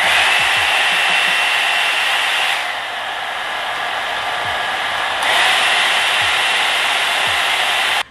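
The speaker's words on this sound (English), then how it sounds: "I'm gonna be blow drying in the high setting" A hair dryer blow brush runs on its high setting with a loud, steady airflow roar, dipping slightly in the middle as the brush shifts, then returning to full force.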